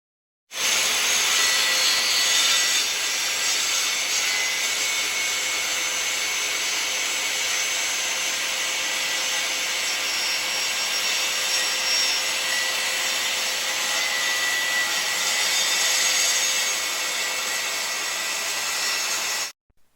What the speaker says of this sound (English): replicate and run the saw blade through each subsequent work piece line of travel